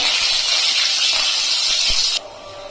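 Mustard seeds and curry leaves hit hot oil in a pan, giving a loud, steady, bright sizzling hiss that runs for about two seconds and then drops off abruptly.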